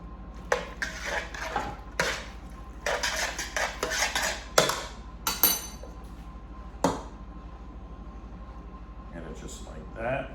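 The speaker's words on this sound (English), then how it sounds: "I'm gonna stir this up with that sauce." A utensil stirring penne pasta with sauce in a pot, with a run of sharp metallic clinks and scrapes against the pot's sides, bunched at first and then spaced out, close and clear.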